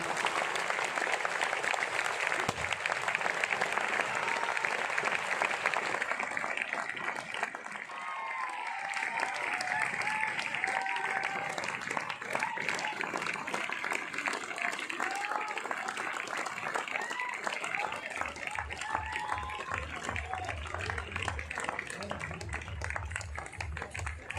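Sustained applause from a crowd, dense clapping that carries on steadily for a long stretch, with faint voices mixed in.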